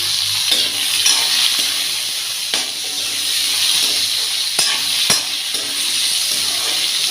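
Tomatoes frying in a pan give off a steady, close sizzling hiss that holds for several seconds, with a few faint clicks of stirring and no voices.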